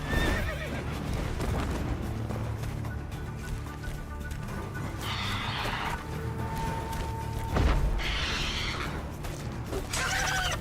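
Horse in Witcher 3 Wild Hunt neighing and whinnying over steady clip-clop of hooves, with a sharp loud whinny near the end, close and continuous throughout.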